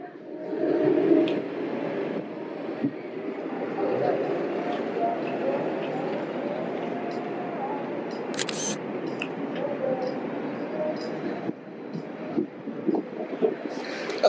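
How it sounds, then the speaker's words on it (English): A bus rolls past on a busy London street near Big Ben, its low engine rumble blending into steady, dense city traffic noise with a few sharp clicks on top. "Wait for this bus to come past."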